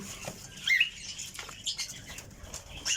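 Australian doves in a farm enclosure flap their wings in short bursts, with soft rustling and faint chirps in a quiet space.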